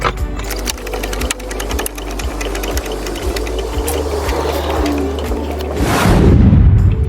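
Car jack being pumped under a vehicle on a driveway during an oil change, a fast repetitive mechanical clicking and ratcheting rhythm, loud and close, with a heavier scraping shift near the end.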